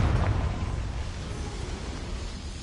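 A Confringo fire spell exploding in Hogwarts Legacy, a heavy booming blast with deep rumble that tails off into a sustained roaring burn.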